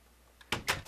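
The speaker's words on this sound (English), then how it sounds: "move this door, actually, one block over." A door in Minecraft being broken and placed one block over, producing two or three short, close wooden knocks in quick succession.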